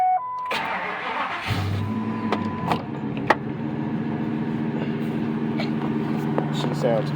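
Ford F-250 4x4 pickup truck cranked with a key and firing up, a short whirring starter followed by a steady medium idle, with clicks and light rattles near the cab and someone talking over it.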